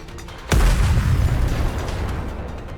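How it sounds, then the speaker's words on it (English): Missiles firing and exploding in the Goddess of Victory NIKKE video game: a sudden loud boom bursts in and gives way to a rumbling, crackling roar that slowly fades, with no voices. "The missiles have no homing ability. It's just firing wildly!"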